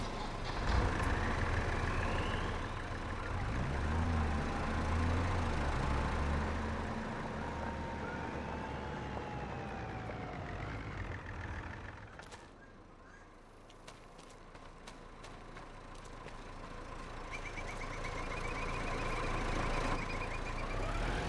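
A tractor engine rumbles and drones steadily as the machine is driven and repositioned in Farming Simulator, with a low, continuous hum, a short dip in the middle and quiet talk underneath.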